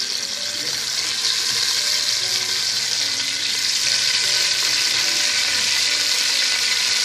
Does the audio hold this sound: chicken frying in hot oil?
yes